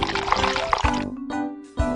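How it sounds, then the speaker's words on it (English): Leftover milk poured out of a baby bottle into a sink, a short close splashing trickle with brief plops and gurgles, no voices. "Pour out the remaining milk."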